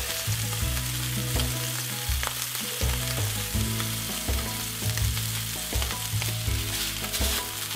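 A thin beef steak sizzles loudly and steadily in a hot pan, a dense crackling hiss with occasional pops, while music plays softly underneath.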